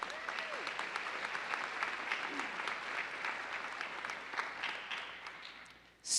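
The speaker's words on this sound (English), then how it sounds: "Let's give them a hand of applause." Audience at a university commencement ceremony applauds a state representative and his wife, with sustained, even clapping from a large hall that fades toward the end.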